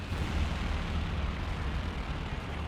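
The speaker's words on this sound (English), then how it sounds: "Airstrikes coming on in." Airstrike explosions in Company of Heroes 2 roll as a heavy, continuous low rumble, loud and sustained with no distinct separate blasts.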